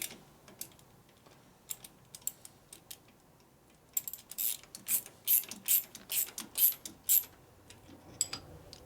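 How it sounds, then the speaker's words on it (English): Clamps being tightened with a ratchet on the top end of a 1958 Harley-Davidson 74ci panhead engine: a few scattered clicks, then a quick run of close, sharp ratcheting clicks, fairly quiet. "Now we go up here and tighten up the clamps up here again."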